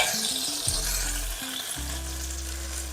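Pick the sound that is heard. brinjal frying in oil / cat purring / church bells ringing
brinjal frying in oil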